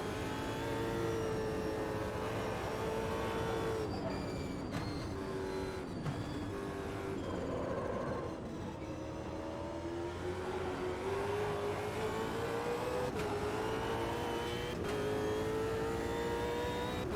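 Simulated race car engine in the Automobilista 2 racing game, droning steadily with rising and falling revs as the car drifts sideways through corners, loud and continuous without talk.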